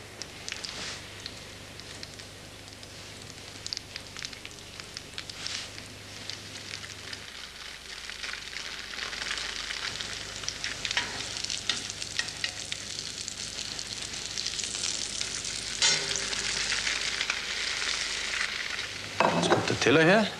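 Butter frying in a pan, a steady broad sizzle with occasional stirring scrapes and crackles, continuing throughout at a moderate level with no talk.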